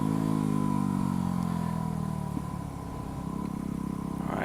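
A motorcycle engine revs hard and then settles while the rider pulls a clutch-up wheelie, a loud, close engine drone that dips slightly in pitch before rising again.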